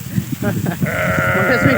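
A goat in a village farm field gives a sustained, fairly close bleat that follows a moment of talking.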